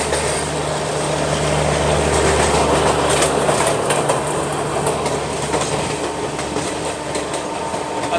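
Rajdhani Express running alongside the Garib Rath Express near Mathura, heard as a loud, steady rumble of rolling wagons with rhythmic clickety-clack over the rails, continuous throughout with no talk.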